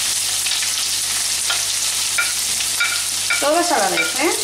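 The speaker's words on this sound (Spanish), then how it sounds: "Ya tenemos el aceite calentito. Echamos las verduritas," Chopped vegetables dropped into hot oil for a spiced vegetable couscous, giving a steady broadband sizzle throughout with a few stirring scrapes. A voice speaks briefly near the end.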